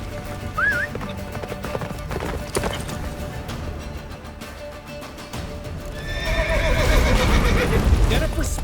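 Roach, the horse in The Witcher 3, gallops with pounding hoofbeats and lets out a neigh, while a voice speaks over the action and the hoof noise swells louder in the final seconds.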